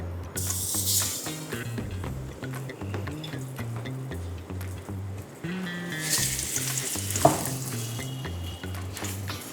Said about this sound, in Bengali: তেল গরম হয়ে গেছে, এবার শুরু হবে মাছ ছাড়া।